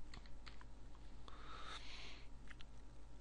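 Light typing on a computer keyboard, a few soft scattered keystroke clicks, close but faint against a low steady background hum.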